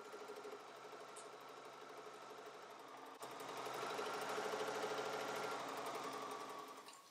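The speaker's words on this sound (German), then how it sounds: "ich nähe diese Tasche jetzt ausnahmsweise komplett mit einer 100er Jeansnadel" A sewing machine fitted with a 100 denim needle stitching a cork fabric bag, whirring in a fast, steady mechanical buzz that grows slightly louder midway, close up with no talk.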